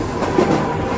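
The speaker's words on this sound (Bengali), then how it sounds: "হুড়মুড় করে ছুটে যাওয়া ট্রেনটা থেকে থেকে কেমন যেন নিঃশব্দ হয়ে যাচ্ছে।" A train rushes past as a sound effect in a Bengali radio-drama ghost story, a steady, close rumble of wheels and carriages that holds at an even level throughout, with no voices.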